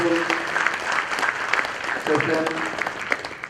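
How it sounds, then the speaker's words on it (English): Audience applause at a Rotary District 3010 event, steady clapping filling the room throughout, with voices mixed in underneath. "let us give them a big round of applause"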